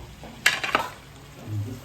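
A lid set onto a cooking pot during home cooking of a Sunday curry meal, a brief metallic clank with a short rattle, close and fairly quiet, followed by a low simmering hum.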